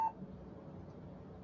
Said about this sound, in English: Get a beep.